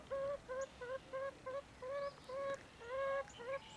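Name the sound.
chickens clucking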